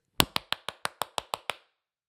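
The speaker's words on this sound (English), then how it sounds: "I'll do 3 rounds of 10 really fast, really hard claps in my hand like this" Nine fast, hard hand claps in an even quick rhythm, close and loud, each crack sharp and snappy, followed by silence.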